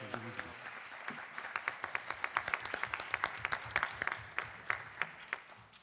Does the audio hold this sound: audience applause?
yes